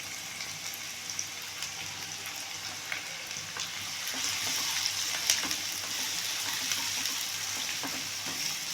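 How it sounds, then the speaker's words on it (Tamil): Chopped onions frying in oil for chicken samosa filling, a soft, steady sizzle that swells slightly midway, with faint stirring clicks and no talking. "நம்ம வெங்காயம் போட்டு வதக்கிக்கலாம்"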